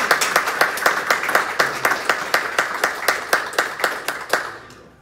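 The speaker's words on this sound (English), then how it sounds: "Give them another round of applause." Audience applause at a Rotary Club annual awards luncheon: brisk, evenly spaced clapping that holds steady, then thins out and fades near the end.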